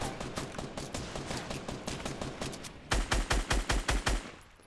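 Automatic gunfire rattles in Fortnite Battle Royale, rapid repeated shots in a steady stream, then a louder, punchier burst of about eight evenly spaced shots before it fades.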